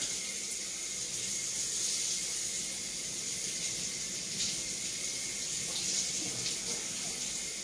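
Tap water runs steadily into a kitchen sink while a brisket is rinsed under it, making a constant hissing splash throughout.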